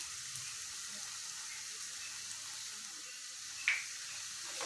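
Tomatoes sautéing in a pan for a multi-meat egg omelette give a soft, steady sizzle with faint crackles and a single brief clink near the end.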